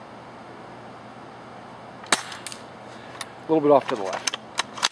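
A single sharp snap from an A&K SVD Dragunov spring airsoft sniper rifle fired at a target about 100 feet away, followed by a few faint clicks and someone briefly talking.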